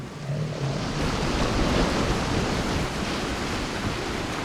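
Stormy coastline with waves and fierce wind, a dense, continuous roar of surf and gusting air, loud and unbroken from start to finish.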